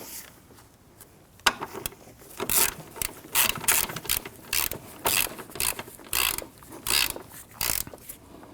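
A ratchet clicking in quick bursts while the strut bolts and lock nuts on a 2001–2009 Volvo S60 front strut are tightened, loud and close with short pauses between runs of clicks.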